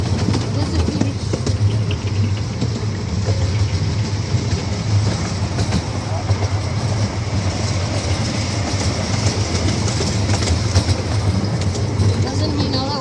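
A passenger train rolls along the Whiskey River Railway at Indiana Beach with a steady, loud rumble and rhythmic clickety-clack of wheels on the track, and voices of riders mixed in.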